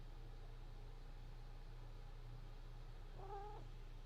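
A cat named Miss gives a single short meow near the end, fairly faint against a steady low hum and background noise.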